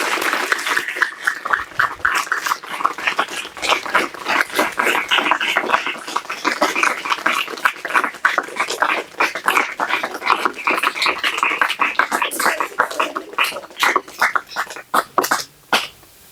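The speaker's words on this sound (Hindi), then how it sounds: "तो इनका यहाँ पधारने पर पहले तो जोरदार तालियों से स्वागत करेंगे हम" Dense, sustained clapping from an audience in a Hindi-language school talk welcoming a visiting psychiatrist, who specializes in mental illness. Many hands beat together for about sixteen seconds, rising and thinning near the end, with no speech over it.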